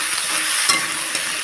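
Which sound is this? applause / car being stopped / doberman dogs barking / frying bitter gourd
frying bitter gourd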